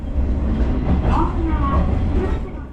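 A train rumbles steadily at close range as it slows approaching Tsuyama station in Japan, with squealing metallic tones rising over the low roar.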